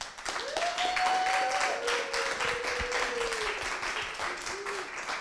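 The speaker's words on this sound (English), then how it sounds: "Another round of applause for all of the entrepreneurs." Applause for entrepreneurs at a summer accelerator's final presentations, broad steady clapping from a crowd throughout, with a sustained tonal whistle or cheer rising and trailing over it.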